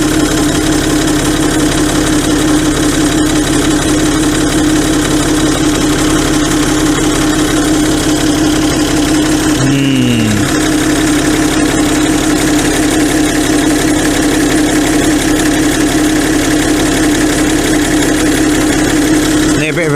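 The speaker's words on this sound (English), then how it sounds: "A bit of a bearingy noise as well." A Citroën C6 diesel engine idles steadily with a worn, bearing-like whirring noise in a continuous loud drone, with a brief pitch dip midway through.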